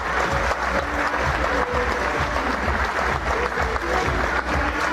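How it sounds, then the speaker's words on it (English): An audience applauds Matt Paxton, the decluttering and downsizing speaker, at a senior wellness event: a thick, continuous wash of clapping from a large crowd, steady and even for the whole five seconds. "Ladies and gentlemen, please give him a round of applause,"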